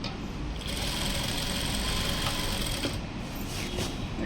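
A sewing machine stitching the fall onto a saree, running as a steady fast mechanical whir with a rapid needle rhythm, close and fairly quiet, with no talking.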